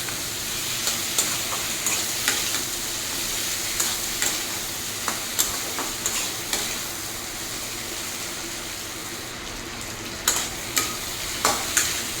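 Potatoes and fish-head masala stir-fried in a pan on a medium-low flame, a continuous close sizzle punctuated by repeated sharp scraping clinks of a spatula against the pan, with no voices.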